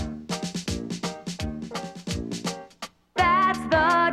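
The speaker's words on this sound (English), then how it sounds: "That's the drum, and that's the sound of the cymbal ring." Dixieland band playing with drums and a ringing cymbal, rhythmic percussive hits under horns, then a sustained brassy chord swells loud near the end.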